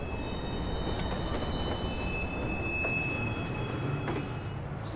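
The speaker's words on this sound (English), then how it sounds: "Northbound train arriving shortly." A northbound subway train rolls into a station in the video game Watch Dogs, a steady rumble of wheels on rails with faint high squeals, heard close and continuous.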